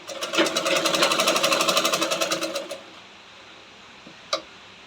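A sewing machine stitches a lined blouse jacket in a fast, steady run of needle clatter for under three seconds, stopping abruptly, followed by quiet and a single small click.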